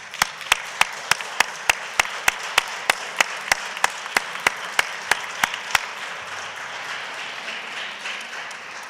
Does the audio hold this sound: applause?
yes